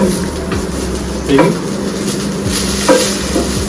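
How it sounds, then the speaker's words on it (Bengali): Green chilies fry in a pan for eggplant mash, a close crackling sizzle punctuated by a couple of sharp pops and stirring clinks, with a brief spoken word in the background. "মরিচ ভাজার জ্বালা আছে, এটা ফোটে।"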